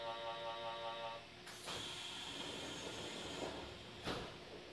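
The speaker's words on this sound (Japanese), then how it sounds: "扉が閉まります。" Train doors on a Kintetsu-style express bound for Nagoya slide shut with a hiss and a soft thud at the station, after a chime tone fades, with a second knock a few seconds later in a quiet carriage.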